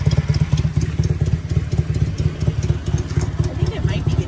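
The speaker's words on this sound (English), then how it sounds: "Our neighbor just showed up on a sweet motorcycle." Motorcycle engine idling nearby in a campsite setting, a loud steady low chugging pulse with rapid regular firing and slight clatter, continuous across the whole stretch with no break.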